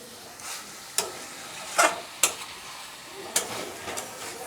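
Chicken pieces fry in a pan with spices, a soft sizzle underneath as a spoon scrapes and knocks against the pot in a few sharp, irregular strokes.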